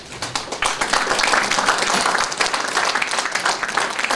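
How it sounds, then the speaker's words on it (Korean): Audience applause welcoming guests at a Korean memorial lecture event, a steady dense wash of many hands clapping throughout, loud and sustained in a hall. "다시 한번 큰 박수로 환영해 주시기 바랍니다"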